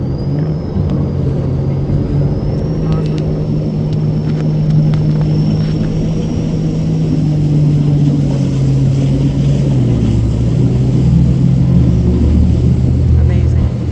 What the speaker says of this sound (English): so we can get the engine started.